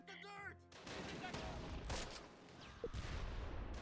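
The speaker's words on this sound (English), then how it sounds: "the anti-tank gun is now firing at the Yad Panzer" In the Close Combat war video game, an anti-tank gun and a bazooka team open fire, giving a dense rumble of shots and booms with a few sharper cracks over a continuous low roar, moderately loud, after a brief musical tone at the start.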